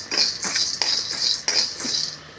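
Dry roasting of lentils and coriander seeds in a pan without oil for idli podi, with a metal spoon scraping and clinking against the pan in steady repeated strokes, close and fairly loud, no talking.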